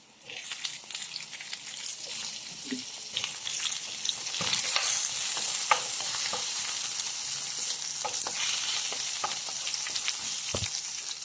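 Onion, garlic and ginger sauté in a pan, giving a continuous close frying hiss with scattered crackles and a few utensil scrapes and taps, steady throughout with no talk.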